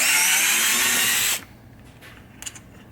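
A power drill whines loudly as it backs big screws out of a 1976 Williams Grand Prix pinball machine. It stops abruptly after about a second and a half, leaving faint clicks and handling noises.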